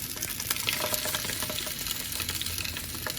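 Large sausages sizzling in hot oil in a pan, a steady dense crackle and spit with scattered sharper pops, close and continuous without talk.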